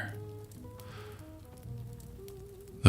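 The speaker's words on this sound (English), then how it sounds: "The rain whispers." Soft, steady rain falling in a cozy hall with a fire crackling nearby, a gentle continuous hiss that stays low under faint tones before a sudden louder burst at the end.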